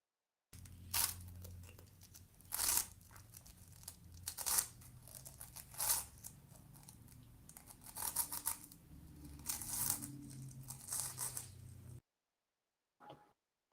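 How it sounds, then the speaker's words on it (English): Paper tearing and crinkling in repeated close, crisp bursts, heard through a played ASMR recording; the rips come in uneven bursts over about twelve seconds, then stop, with one brief faint rustle after. "somebody tearing paper"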